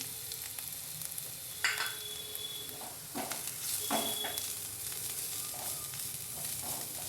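Ground paste of fourteen garlic cloves fries in a pan for palak corn, making a steady soft sizzle broken by a few spoon scrapes and clinks as it is stirred, close and without talk.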